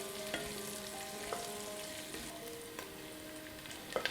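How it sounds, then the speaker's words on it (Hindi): Onion sliding into hot mustard oil and being stirred for chicken biryani: a steady bright sizzle with intermittent scrapes and clinks of a spoon against the pan, close and alone without voices. "आइए अब हम इसमें प्याज भी डाल लेते हैं और इसे भी चला लेते हैं।"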